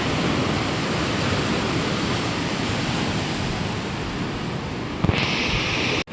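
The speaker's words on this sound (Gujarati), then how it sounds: "નદીના તમે પાણી જોઈ શકો છો કેટલું ભયાનક પાણી છે" Fierce, swollen river water rushes below a bridge, a loud and unbroken roar that fills the whole stretch with a brief knock near the end.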